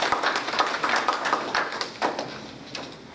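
An audience at a community board meeting applauds to welcome the Miami-Dade Corrections director, a modest patter of claps from a small crowd at moderate distance that fades toward the end.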